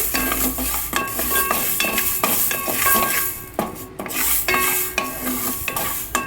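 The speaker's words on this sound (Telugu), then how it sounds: "మెంతులు కాస్త దూరగా వేయించుతున్నాను" Fenugreek seeds dry-roasting in a pan for mango pickle, stirred continuously so a spoon scrapes and clinks in a steady rhythm over a soft sizzle, up close and fairly loud, with a brief pause near the middle.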